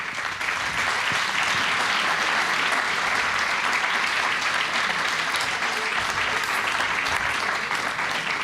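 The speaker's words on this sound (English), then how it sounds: "A big applause for our panelists" Sustained applause from a panel debate audience thanking the panelists, dense and steady throughout with no talk over it.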